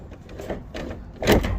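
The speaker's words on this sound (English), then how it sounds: "I've got to try and shut this door." A vehicle's back door pushed shut with a short rattling shove followed by a louder, close thud at the end.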